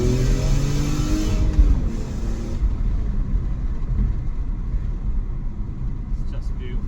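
BMW M3 E46 engine revving in sport mode, a deep rising rumble with a climbing pitch early on, then settling into a steady throaty drone inside the car as a voice talks over it.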